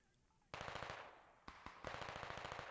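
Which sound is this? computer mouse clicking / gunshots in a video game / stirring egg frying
gunshots in a video game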